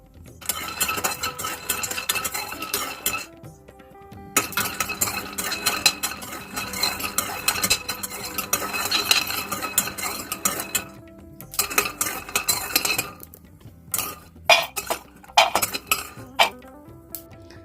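Peanuts are stirred and dry-roasted in a metal pan, making loud rattling scrapes and clinks of a spoon against the pan in bursts, separated by short pauses, with sharper isolated knocks toward the end.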